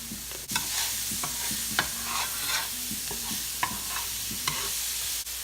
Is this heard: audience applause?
no